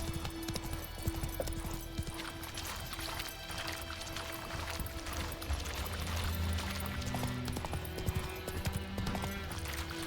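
Horse hooves clop in a steady rhythm in The Witcher 3, faint and blended into a busy game soundscape with music.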